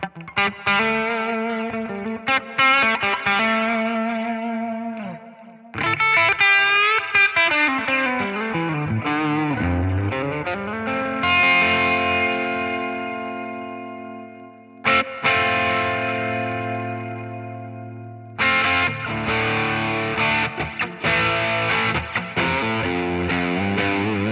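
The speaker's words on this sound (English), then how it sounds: "So I can create some sort of plexi sound." Crunchy, amp-driven electric guitar with a plexi-style tone from BOSS 200 Series pedals plays ringing chords and bent phrases with pauses between them, a classic rock amp tone, with no talking.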